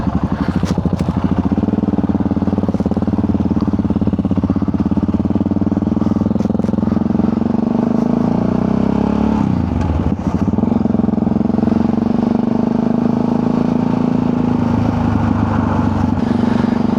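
A motorcycle engine runs loudly and continuously nearby for the whole stretch, a steady mid-pitched throb with light mechanical clatter and small changes in revs, and nobody speaks.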